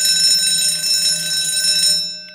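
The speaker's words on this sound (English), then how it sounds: "this must be a long video because that's the third bell this video" A school bell rings continuously in a classroom, a steady electric metallic ring that stays loud throughout and cuts off abruptly near the end.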